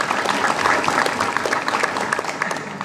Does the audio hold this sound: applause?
yes